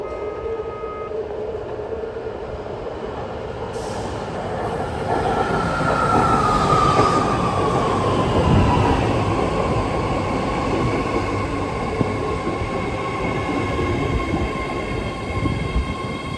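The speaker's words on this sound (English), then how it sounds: "here comes a rare 8-car Green Line Berryessa train approaching platform number 1 at Bayfair Station." An 8-car BART Green Line train bound for Berryessa pulls into Bayfair Station. It rolls in with a steady rumble of wheels on rail, joined by rising and falling squeals as it slows toward the platform, close and continuous throughout.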